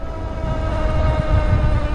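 A Denago City 2 e-bike motor working on throttle alone up a steep 8 to 10 percent grade gives a steady electric whine over a low rumble of road and wind noise, close and unbroken, with no talk.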